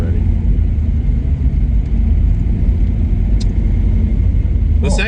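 A 1974 AMC Hornet wagon on the road with its freshly installed third camshaft, a loud continuous low engine and road rumble from inside the car, with a voice or two under the drone.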